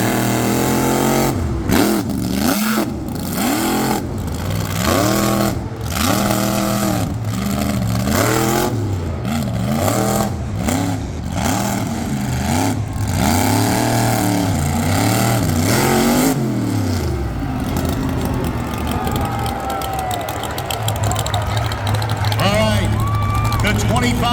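A monster truck engine roars and revs loud and close through a qualifying run at a racing show, the pitch rising and falling over a steady crowd and arena din, with an announcer talking throughout.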